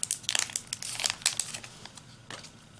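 A sealed foil pouch holding a disposable vape pod is torn and crinkled open up close, in a burst of sharp crackling rustles that tapers off, with no talk.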